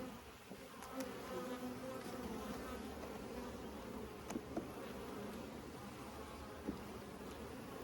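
Dense, steady buzzing of honeybees swarming around a large, open backyard hive, a continuous close drone with a few brief louder passes as bees fly near.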